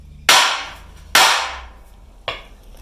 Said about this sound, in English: I'm going to use a combination of the Anvil and the sledgehammer and the other sledgehammer to beat this bumper straight